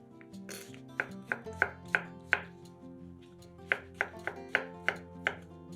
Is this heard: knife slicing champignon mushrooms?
yes